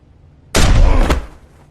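A single loud, close gunshot in Telltale's The Walking Dead game, a sudden sharp blast with a boomy tail lasting about half a second, preceded and followed by near silence.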